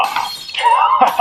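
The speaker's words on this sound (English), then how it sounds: "a roaming gang are smashing street signs with bats and breaking store windows too" Glass shatters as a roaming gang smashes store windows, a sharp close crash followed by a second quick burst of breaking in a short dramatized sequence.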